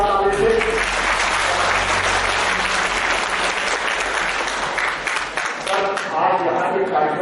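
An audience at an agricultural university Kisan Kalyan Mission event gives loud, sustained applause for visiting officials, a dense clapping roar that carries steadily and fades slightly near the end.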